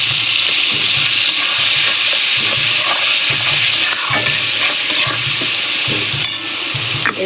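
Salt and turmeric powder go into curry sizzling in hot oil, a steady loud frying hiss with light stirring scrapes throughout, no talking.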